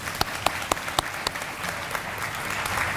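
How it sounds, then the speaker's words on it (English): Audience at an elementary school D.A.R.E. graduation ceremony applauds the graduates, with a few sharp individual claps standing out at the start over a steady wash of clapping from the crowd. "Let's give them a round of applause."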